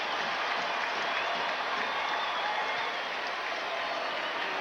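A football stadium crowd of 80,000 at a 1990 Broncos at Bills game roars and cheers in a dense, continuous wash of noise that holds loud and steady throughout.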